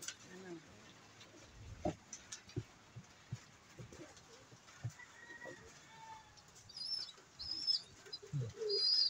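Pet pigeons cooing in low, soft repeated calls, close by, with a few higher chirps later and quiet background noise.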